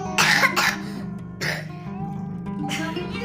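Several short, harsh coughs in quick bursts, close by, with a low steady hum in the background and brief pauses between them.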